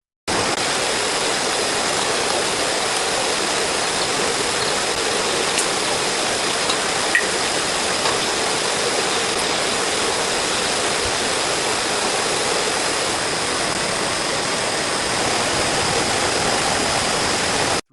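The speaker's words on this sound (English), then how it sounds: "Three coated bananas fry in shallow oil" Three coated bananas fry in shallow oil, giving a steady, dense sizzle that holds evenly and fairly loud throughout, with no talk.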